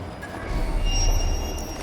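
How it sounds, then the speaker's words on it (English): Rumbling of a runaway train in the Watch Dogs: Legion video game, a steady low roar of rolling wagons with thin metallic squealing tones above it, sustained and fairly loud without speech. "Stop pissing about and stop the runaway train."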